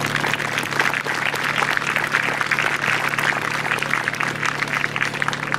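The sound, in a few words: applause for the minor league coaches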